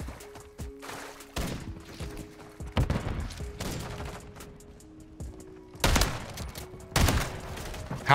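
Gunfire in a video game shootout with a Lockwood 680, loud, sharp reports in uneven bursts, some single shots and some clustered, close and punchy with a pause between volleys.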